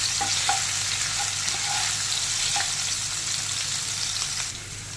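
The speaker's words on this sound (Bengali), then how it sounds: "তেল গরম হয়ে গেছে, আদা রসুন কুচিটা দিয়ে দিচ্ছি" Chopped ginger and garlic hit hot oil for chilli potato, giving a loud, steady, close-up sizzle with a few light stirring clicks over it.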